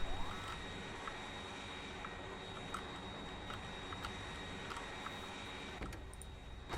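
Jet aircraft engine in the modded video game Factorio, a steady, continuous broadband roar holding at an even level throughout with no talking.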